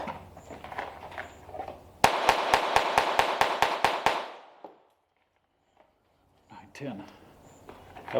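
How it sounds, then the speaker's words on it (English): About ten sharp Glock pistol shots crack in quick, even succession at a shooting range, loud and close, then trail into a decaying echo and silence, with faint talk and handling noise before and after. "That was a Glock. That was only 10 shots."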